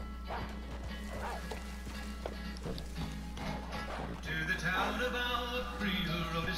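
Hooves clip-clop in a steady rhythm with a horse's snorts and movement in a video game, then music swells in over the sounds.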